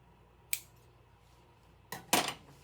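Scissors snipping through shirt fabric: one sharp close cut, a pause, then two quick cuts in succession, crisp and distinct against a quiet room.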